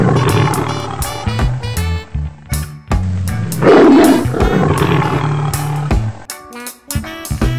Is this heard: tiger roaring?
yes